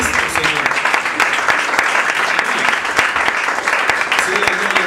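A church congregation claps hands in praise, dense sustained applause filling the room, with voices mixed in under the clapping.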